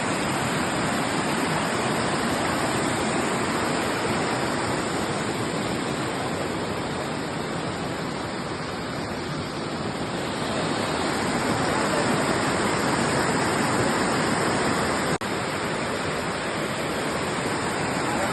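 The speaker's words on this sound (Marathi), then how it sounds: "पाण्याचा स्पीड बघू शकता किती आहे" Fast-flowing rainy-season village water rushes past nets set for catching crabs, a loud, steady, unbroken roar that stays constant throughout with no voices.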